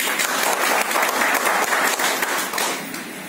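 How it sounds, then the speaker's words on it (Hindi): Audience applause at a special program marking International Women's Day, a dense, steady burst of many hands clapping together that stays loud throughout and eases slightly at the end. "इनके लिए तालियां होनी चाहिए"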